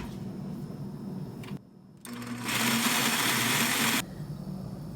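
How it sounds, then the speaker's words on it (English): A Ninja blender churns cooked lemons with water, a motor whir that cuts out briefly, then restarts and surges louder into a steady, harsh roar for about two seconds before dropping back to a lower hum. "I'm going to blend this all together."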